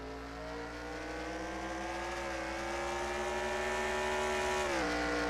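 Race trucks in the Coors Light Truck Series video game roar through turns 3 and 4 of the Daytona road course, a steady, loud engine drone that climbs gradually in pitch and dips briefly near the end.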